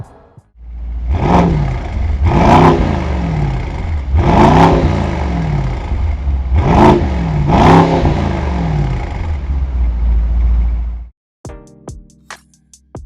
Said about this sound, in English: you do have that AMG performance exhaust system, and we'll get to hear that in just a second